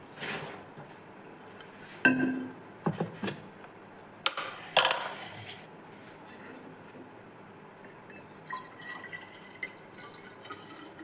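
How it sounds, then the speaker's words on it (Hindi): Cold water poured into a water bottle, heard as a few sharp pouring and drip bursts with clinks and pauses in a quiet room, no talking. "इसको पानी की बॉटल को भरते हैं ठंडे ठंडे पानी से।"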